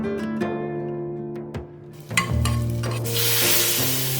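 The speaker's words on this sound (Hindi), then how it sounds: "लास्ट में मैंने सिर्फ हींग और लंबे लंबे स्लाइसिस में कटे हुए प्याज" Asafoetida and long-sliced onions hit hot oil in a pan for tempering, and they sizzle loudly. A few stirring clinks come first, then the frying hiss builds and stays strong to the end.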